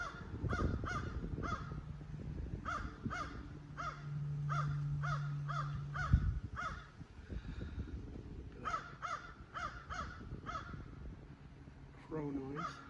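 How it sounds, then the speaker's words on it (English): Repeated harsh caws from a crow come in rhythmic clusters, with a low mechanical drone and some speech underneath. "Crow noise."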